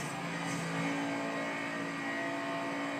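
Engine of a 2011 Lotus Evora S in the racing game Forza Horizon 2, a sustained, fairly loud hum holding a steady pitch for three seconds with a slight swell early on, no talk.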